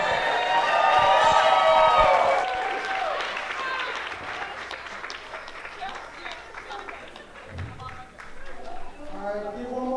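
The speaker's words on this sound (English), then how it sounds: "give one more round of applause for Rose" Wedding guests clap together in a lively round of applause, loudest early on. Voices call out over the start, and a person talks through the clapping as it continues.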